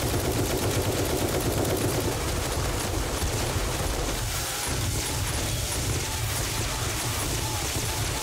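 Dense, continuous rapid gunfire from the zombie survival game 7 Days to Die, with a game-like, compressed quality, loud and unbroken throughout with no pauses.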